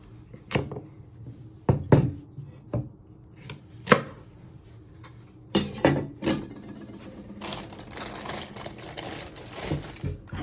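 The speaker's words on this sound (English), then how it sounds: "We're first going to start off with the carrots. So you want to chop both your ends off." A knife chops through carrots on a cutting board in a home kitchen, sharp isolated thuds at first, then a quicker run of cuts toward the end.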